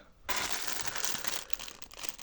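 A plastic packet of Chinese AliExpress Lego-style figures crinkles and crushes loudly and close, starting abruptly after a short quiet moment and continuing as a dense, steady rustle.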